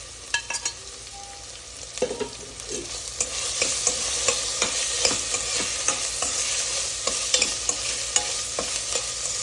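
Garam masala, cashews and green chillies frying and being stirred in a pan for tomato rice, with a steady bright sizzle and repeated close scraping strokes throughout, no voices.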